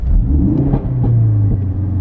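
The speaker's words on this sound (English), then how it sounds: "So if I do the same thing and give it some revy revs" A Ford Focus RS engine with a stage 2 remap in track mode revving up loudly and close, a deep rumbling rise and fall in pitch with exhaust pops and bangs.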